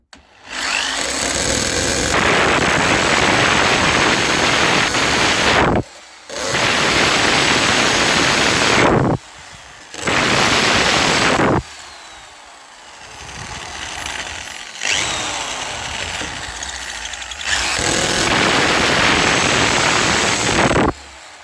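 A loud, harsh Stanley 800W hammer drill in hammer mode, with a 5 mm masonry bit, drills brick in long sustained bursts with short pauses between, its grinding roar close and dominant throughout.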